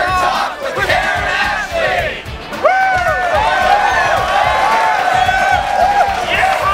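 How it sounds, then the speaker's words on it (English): Power Rangers convention fans cheer and applaud together, a loud crowd roar with whoops and shouted cries swelling after a brief dip and holding steady to the end, with voices mixed throughout. "Give yourselves a round of applause."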